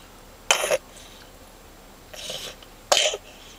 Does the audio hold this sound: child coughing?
yes